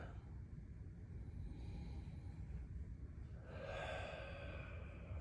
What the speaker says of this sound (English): Let's go ahead and nose this real quick